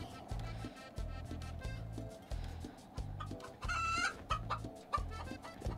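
A chicken in the game SOPA: Tale of the Stolen Potato clucks repeatedly over a rhythmic, looping game beat, a string of short close clucks with a brief louder squawk midway.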